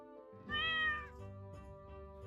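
A single cat meows loudly in the Hidden Kittens: Kingdom of Cats video game, a drawn-out mew lasting about half a second over a steady musical background.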